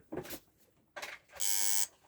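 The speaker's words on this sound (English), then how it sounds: "that was actually a good sign. That was the alarm going off." A Ferranti electric alarm clock going off: two short buzzing bursts followed by a longer, louder, steady high-pitched ring near the microphone, heard alone.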